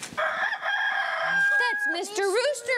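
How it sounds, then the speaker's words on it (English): A rooster crows once, loud and close, with a long rising and falling call and a few clucks at the start. "That's Mr. Rooster."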